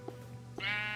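A single sheep in a video game gives a short bleat, followed by a brighter sustained wavering bleat, clear and close with no other sound.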